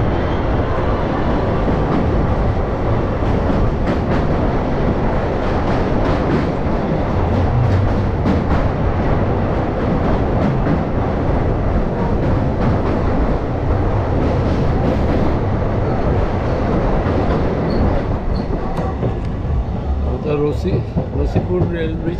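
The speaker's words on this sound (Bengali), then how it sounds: "এই আমরা নসিপুর রেল ব্রিজ পার করছি।" Train rumbling steadily across the Nasipur rail bridge near Azimganj, heard from inside the coach as a loud continuous roar with rhythmic wheel clatter, while people talk over it.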